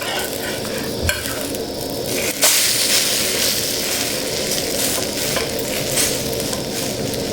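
Raw-egg-coated bread slices sizzle in a hot pan just after being flipped. A loud, steady, crackling frying hiss runs throughout, broken by a couple of brief knocks, with no talking.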